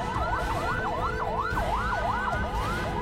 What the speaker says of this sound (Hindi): एम्बुलेंस को रास्ता दीजिए, एम्बुलेंस को रास्ता दीजिए।